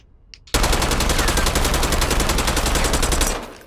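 Automatic weapon fire in Call of Duty Warzone on the Verdansk map: one loud, sustained rapid-fire burst of about three seconds after a short quiet lead-in, with no talking.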